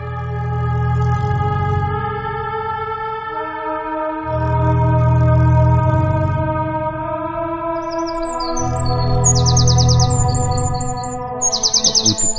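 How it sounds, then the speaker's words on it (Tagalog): Birds chirp and trill over a loud, low, sustained musical tone, with repeated bursts of bright calls toward the end and no talking. "Mabuti pa ang mga ibon na ito eh."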